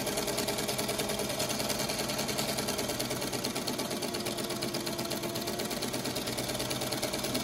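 A sewing machine stitches fabric and interfacing along a line, a close, steady rapid mechanical whir and chatter that runs continuously without pause.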